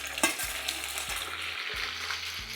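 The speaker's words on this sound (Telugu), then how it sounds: "మళ్ళీ ఒకసారి డబల్ ఫ్రై చేస్తున్నా." Mushrooms sizzle steadily as they are double-fried in oil with chilli and curry leaves for fried rice, a close, continuous crackling fry with occasional stirring and no talk.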